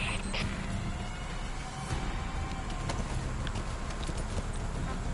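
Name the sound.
D-Horse clip-clopping in video game Metal Gear Solid 5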